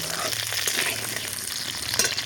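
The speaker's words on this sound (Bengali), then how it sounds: "এবার এই আলুটা ভেজে নেব।" Potato pieces fry in hot oil in a kadai for cauliflower kalia, giving a steady, close hiss of sizzling with faint crackles and no talking.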